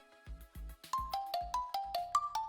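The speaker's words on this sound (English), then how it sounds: "Oh, a ringtone stops in mid-sentence." A phone ringtone from the visual novel 9-nine- plays a bright electronic melody of quick repeated notes over soft background music, then is cut off abruptly.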